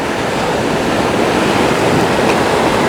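Ocean waves wash onto the sand at Blue Lagoon beach in New South Wales, a loud, steady, unbroken surf roar filling the whole stretch with no voices.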